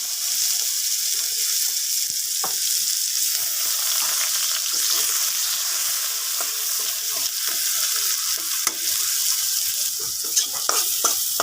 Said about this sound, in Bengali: তেলটা গরম হয়ে গেছে, এখন জিরে ফোড়ন দিয়ে দেবো।